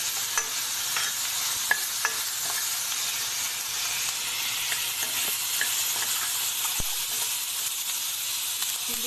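Soya chunks stir-frying in a pan over a high flame, with a steady loud sizzle and hiss running throughout and a few sharp clinks of a spatula scraping the pan.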